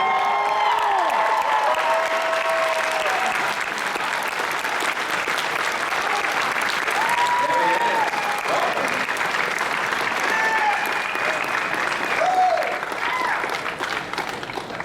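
A large crowd at Dallas Comic Con applauds and cheers for horror actor Robert Englund, a sustained roar of clapping and whoops lasting several seconds, with an amplified announcer's voice and scattered shouts rising over it.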